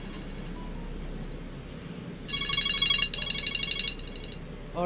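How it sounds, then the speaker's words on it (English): A phone rings in the Until Dawn video game, a bright electronic ringtone pulsing in quick repeated bursts over a steady low background hum. "Is that my phone?"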